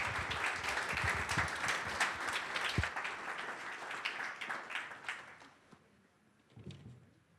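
Audience applause at an agricultural keynote event, a dense wash of clapping from a crowd that gradually thins and fades out, with a brief scatter of claps near the end.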